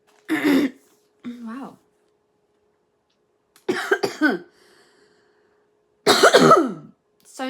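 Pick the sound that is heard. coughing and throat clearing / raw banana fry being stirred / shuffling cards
coughing and throat clearing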